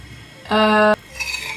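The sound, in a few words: mashing room temperature butter with flour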